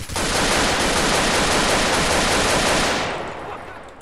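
Rapid continuous gunfire in GTA multiplayer, a dense loud burst of automatic shots lasting a few seconds before cutting off into fading echo.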